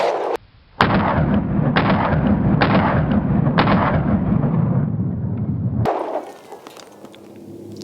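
A Hellcat Pro pistol fitted with a Monsoon Tactical port fires four evenly spaced loud, sharp shots of 90 grain +P ammunition, each crack ringing into the next, then a final burst followed by fading echo.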